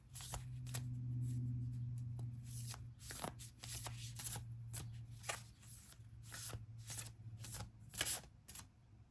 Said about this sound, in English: Let me put them back in the deck and continue to shuffle.